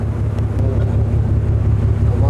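A RoRo ferry sailing slowly to Mindoro produces a loud, low, continuous engine rumble, with wind buffeting the microphone on deck throughout.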